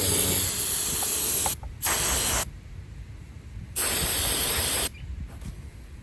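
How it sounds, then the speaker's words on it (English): An aerosol or pressure sprayer hisses over the muddy top end of a 2015 Yamaha YZ125 dirt bike in three close, loud bursts separated by short pauses. "I'm gonna just spray this down."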